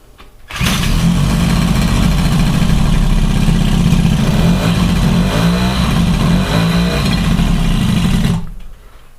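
A small engine fitted with a throttle limiter catches and runs loudly after being unchoked, a steady close rumble with slight revving that holds for about eight seconds, then cuts off abruptly.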